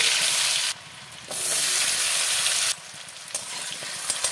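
Potatoes fry in hot mustard oil with turmeric, a loud steady sizzle that drops away briefly and then returns with stirring scrapes, close by and with no voices.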